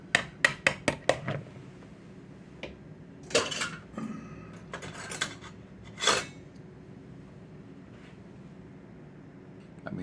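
A utensil scrapes and clinks against a bowl while a chocolate coconut macaroon mixture is stirred, with a quick run of sharp taps first, then scattered scrapes and knocks, close and fairly quiet.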